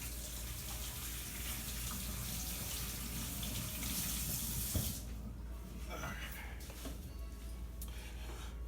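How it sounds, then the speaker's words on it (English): Tap water runs steadily into a sink while hands are rinsed at a kitchen counter during sushi rolling with cream cheese, a broad continuous wash that thins after a few seconds, with a few small clatters near the end. "I'll give it a little rinse real quick."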